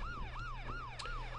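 Ambulance siren from the driving game The Crew, a quick repeating wail cycling several times over a low engine drone, fairly faint and steady, with no voices.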